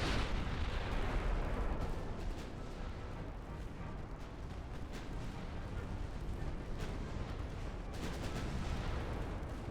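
Incoming naval artillery fire rumbles in a sea battle between warships in the video game Ultimate Admiral: Dreadnoughts, a steady roar of distant booming shell impacts and gunfire with no clear pauses.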